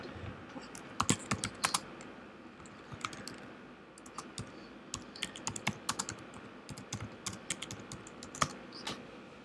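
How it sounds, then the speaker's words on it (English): A message is typed on a computer keyboard, a quiet, close patter of irregular key clicks in short bursts with brief pauses, with no talking. "I'm gonna type."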